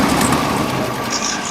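A 1965 Ford Mustang engine, revived after years of sitting, idles roughly with an exhaust leak, giving a steady, close, hissing rumble with no break.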